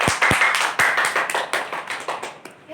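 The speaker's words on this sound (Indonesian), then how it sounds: "Beri tepuk tangan untuk kelompok 3." A small classroom group claps for a student team's presentation with a ragged run of sharp, distinct hand claps that loosen and thin out as they fade.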